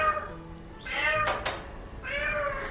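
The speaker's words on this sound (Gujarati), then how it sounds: "બિલાડો છે, બિલાડો" A tomcat on a rooftop terrace gives three drawn-out meows in close succession, near and fairly loud, against faint background noise.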